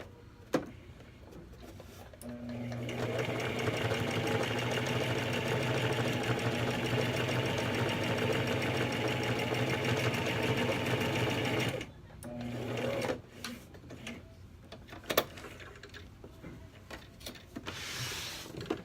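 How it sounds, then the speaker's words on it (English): A sewing machine hums steadily through one long run of about nine seconds sewing down a quilt seam, close and even, then stops, followed by a few faint clicks and handling noises. "we're gonna sew the seam down"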